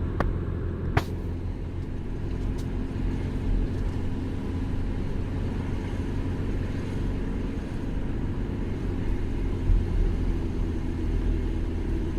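A BMW car following close behind on an Alpine road, heard as steady low engine and road rumble from inside a moving vehicle, continuous throughout with no talk.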